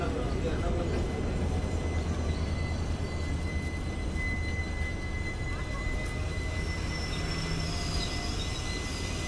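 Poorna Express passenger train hauled by a Pune-shed WDP4D diesel locomotive arriving at a platform, a steady broad rumble with a faint high tone running throughout.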